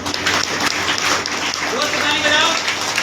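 A church congregation claps during praise worship, brisk clapping mixed with voices and talk, fairly close and moderately loud for a few seconds.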